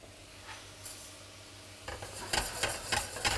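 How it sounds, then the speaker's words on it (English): Rice being stirred into mushrooms and garlic in a hot pan for pumpkin and mushroom risotto, a soft steady sizzle with scraping and rattling strokes of a utensil growing busier, close up. "Mix that through so it gets the good coating to it."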